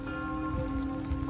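Rain falling on outdoor surfaces on a street in Switzerland, a dense steady patter close by, filling the whole moment without speech.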